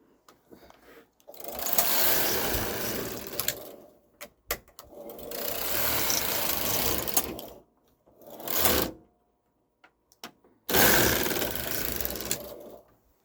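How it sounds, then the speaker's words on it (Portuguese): A flat-bed knitting machine knits a rib border, the carriage swept back and forth in three loud, steady passes of whirring, clattering needles separated by short pauses and a brief slide. "estou preparando a máquina para tecer então a orla perfeita"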